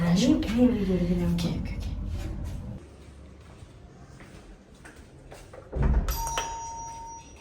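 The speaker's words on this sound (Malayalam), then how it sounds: "നീ കോളിംഗ് ബെൽ അടിച്ചത്" A household calling bell rings briefly near the end with a clear electronic chime, after people talk and move around at a doorway during wedding preparations.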